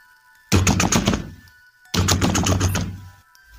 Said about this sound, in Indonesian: Suara gedoran di pintu kamar Tugi semakin lama semakin keras